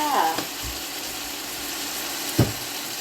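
Onion, chili, cucumber and tomato sizzle in hot oil for a sweet and sour stir-fry, a steady frying hiss broken by a couple of brief scrapes and clacks of a utensil in the pan.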